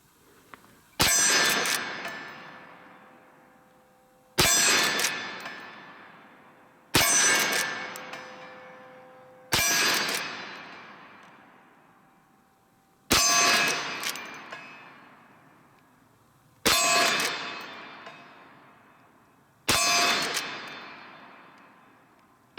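Seven sharp rifle shots from a Henry Big Boy All-Weather .357 Magnum lever action rifle, each followed by a bright ringing clang from struck steel targets, spaced a few seconds apart and decaying slowly, with no talk.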